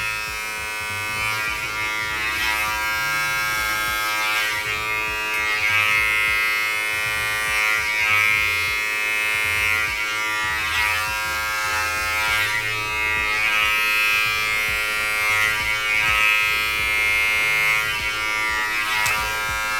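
Electric hair clippers buzz steadily and close up as they cut dry hair on the top of the head, a continuous high hum with slight rises and dips as the blades move through the hair, and no talking.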